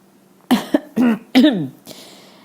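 A person clears their throat in a few short, rough bursts, close and fairly loud, with brief pauses between them and quiet around.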